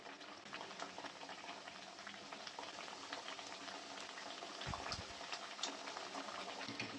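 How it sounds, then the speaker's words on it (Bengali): Papri dough crisps deep-frying slowly in oil over lowered gas heat for street-style papri chaat, giving a steady, soft bubbling sizzle that carries evenly through the whole stretch with no talking. "দিয়ে লাল লাল করে ভেজে নেব সময় নিয়ে ভাজতে হবে"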